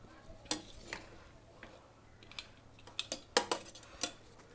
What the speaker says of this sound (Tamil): நல்லா ஒரு கிளறி விட்டுறலாம்.